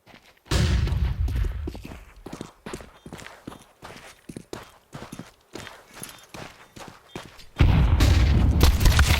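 A flashbang grenade goes off during a Counter-Strike match, with a sudden loud burst at the end following busy footsteps and a first boom at the start, all heard close and dense.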